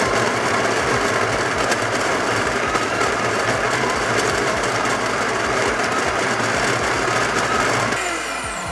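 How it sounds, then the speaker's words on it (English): A home filter coffee grinder runs continuously as it grinds coffee, with a loud steady whirring motor buzz that slows and fades near the end. "grind this coffee out"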